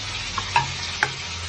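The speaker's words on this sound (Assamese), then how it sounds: "তেল গৰম হোৱাত পিঁয়াজখিনি দিছোঁ, ৰংচোৱাকৈ ভাজি ল'ম।" Onion sizzles in hot oil in a pan for a fish curry with tomato, making a steady close frying hiss broken by three quick scraping stirs.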